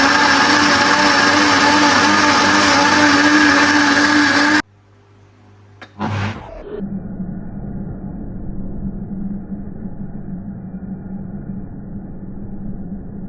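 A blender whirs loudly for several seconds while mixing lemons with about a litre of water, then cuts out abruptly; a brief clatter follows before a lower, steady motor hum resumes.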